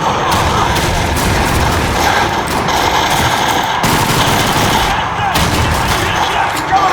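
Gunfire roars through a Call of Duty mission, loud dense bursts of rapid automatic fire blending into a near-continuous barrage with brief gaps, while players talk faintly underneath.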